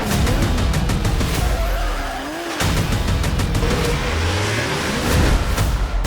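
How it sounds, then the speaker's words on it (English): Toyota drift cars competing at a Formula Drift event in Seattle, with loud, continuous engine roar and tire noise close by, a brief drop in sound near the middle, then revving back up. "Here we go, Ken Gucci out front, Fredric Aasbø, all Toyota."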